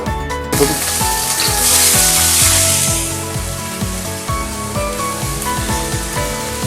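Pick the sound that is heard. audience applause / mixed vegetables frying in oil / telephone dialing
mixed vegetables frying in oil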